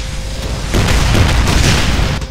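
Loud booming explosions and heavy gunfire in the shooter game Brutal Doom, with repeated rapid blasts and deep rumbling impacts that build and continue for the whole stretch.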